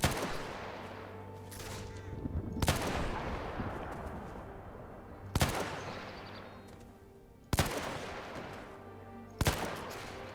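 Sharp, booming gunshots from the Between Empires video game fire in a spaced series, a heavy blast roughly every two to three seconds over a dense battle din, loud and close.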